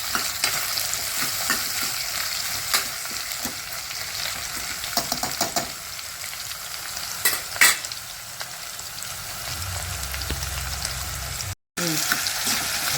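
Green pumpkin pieces, bottle gourd, tossed in hot oil in a pan: a continuous close sizzle with repeated scraping stirs and a few sharper clatters, with no voices and a short break of silence near the end.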